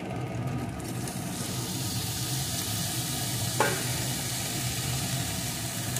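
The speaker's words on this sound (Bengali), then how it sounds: "এখন আমি সব কিছু এইভাবে ভাজতে থাকবো।" Cauliflower pieces, soaked in hot water, being fried with spices in a pan with no added water, giving a steady, even sizzle with occasional stirring scrapes throughout.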